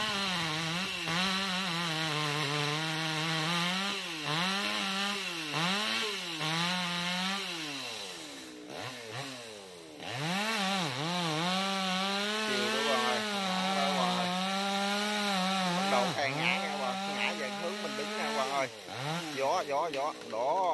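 Loud, close chainsaw cutting through a large branch of a dang huong tree, its engine revving and bogging as it works through the wood, with a brief drop near the middle and someone talking over the noise.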